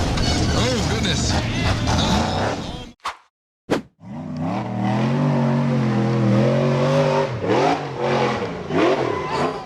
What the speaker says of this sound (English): The green off-road buggy accelerated hard up the rough, rocky dirt slope